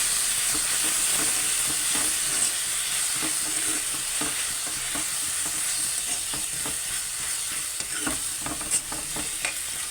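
Tomatoes and coriander cook in a pan with a constant loud sizzle and hiss, broken by irregular scraping stirs and small pops throughout.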